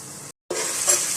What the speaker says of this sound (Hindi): थोड़ी देर के लिए हम टमाटरों को भूनेंगे अदरक और लहसुन के पेस्ट के साथ